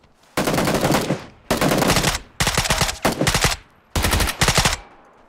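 Automatic gunfire from the battle royale game PUBG, five loud sustained bursts of rapid shots separated by short gaps, close and alone without talk.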